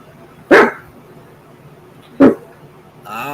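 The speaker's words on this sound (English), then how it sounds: "That's my dog." A dog gives two sharp, loud barks about two seconds apart in a quiet room, and a person starts speaking at the end.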